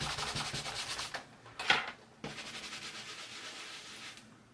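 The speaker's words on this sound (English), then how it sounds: "As usual, I've got my stamp scrubber here and some of the mist." A stamp scrubber rubbing back and forth across a stamp, a quick rhythmic scratchy scrubbing broken by two brief pauses and a small knock, close and moderately quiet.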